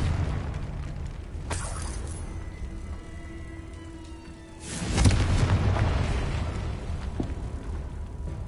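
A Confringo blasting spell in Hogwarts Legacy erupts in a loud, full-bodied boom about halfway through, its rumble holding steady afterward, with a sharper crack shortly before it against ongoing game ambience.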